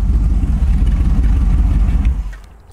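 A Boss Hoss V8 motorcycle engine runs in gear with a deep, steady, loud low rumble and some mechanical clatter, fading off near the end.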